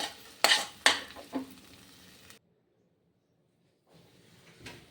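Frankie filling with tomato ketchup stirred in a pan with the gas off, a few loud scraping strokes with soft clatter in the first half, then near silence and a faint scrape at the end.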